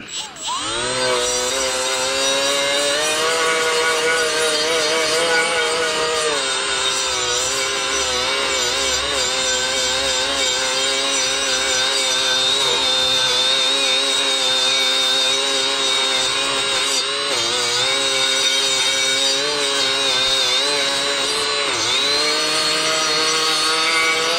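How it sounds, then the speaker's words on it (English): A power tool fitted with a 120 grit 3M plastic bristle disc runs during a subwoofer surround replacement, giving a loud, steady, high whine with slight rises and dips in pitch throughout. "this is a 120 grit 3M plastic bristle disc, and it's not that aggressive"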